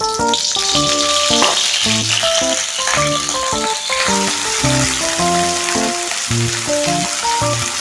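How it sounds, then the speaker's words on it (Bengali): Small pieces of paneer fry in hot oil in a kadai, giving a continuous crackling sizzle beneath a louder melodic backing of plucked or keyed notes. "তারপরে এবার তেলের মধ্যে ভেজে নেব"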